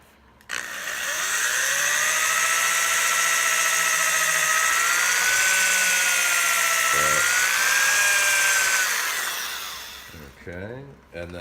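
A small bit spins into a wooden Windsor chair seat, the whine steady and close for about nine seconds before dying away, with brief handling knocks after it.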